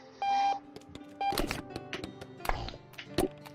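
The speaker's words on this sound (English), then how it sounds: "Let's go ahead and shut off that alarm" An alarm clock in the video game Octodad gives short electronic beeps in separate bursts, mixed with clattering thumps and knocks of objects being handled nearby, fairly quiet overall.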